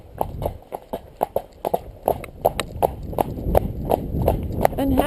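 A horse trotting out on a hack, its hooves clip-clopping in a steady, even two-beat rhythm at close range, with a voice faintly audible in the background.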